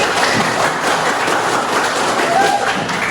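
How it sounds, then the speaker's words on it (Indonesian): A school class claps for a student named Fitri during a civics lesson, a brief, busy patter of many hands at close range, with a voice briefly present. "Tepuk tangan untuk Fitri."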